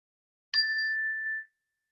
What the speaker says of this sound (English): please listen into the sound of a bell to remind us to come to this moment right now.